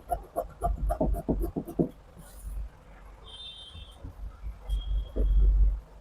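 Scissors cut through blouse fabric at the shoulder in a quick run of close crunchy snips, then a pause with faint rustling, then another firm snip near the end.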